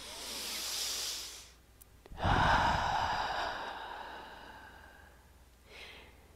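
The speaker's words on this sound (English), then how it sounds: "Go ahead and take your deep breath." Slow deep breathing during a guided affirmation: a soft airy inhale, then a louder, fuller exhale that fades gradually, followed by a brief faint breath at the end, close and quiet.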